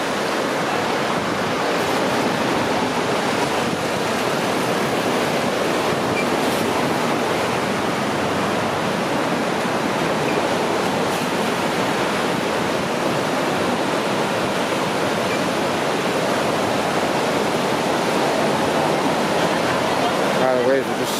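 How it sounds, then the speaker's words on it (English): Ocean surf breaks on a beach on a morning walk in Mazatlan, a steady, full roar of waves that washes on without pause for about twenty seconds, loud and close. "the waves are just stacked up"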